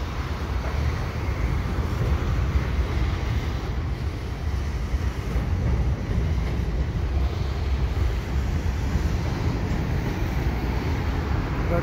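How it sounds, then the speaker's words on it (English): CN 527 freight train rolling west past the St. Patrick Street bridge in Montreal on a calm day, a steady broadband rumble and rail roar held at even loudness throughout, with no voices. "And now here it is coming west with the whole train at St. Patrick Street."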